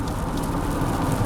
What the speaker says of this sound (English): So we're driving in the rain.